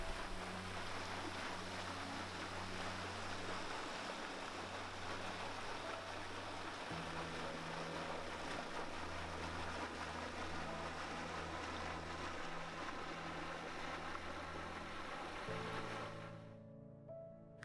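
Steady broadband water wash at a lake in Sedona, Arizona, continuous and fairly full with low tonal drones underneath, then fading at the end; no voices.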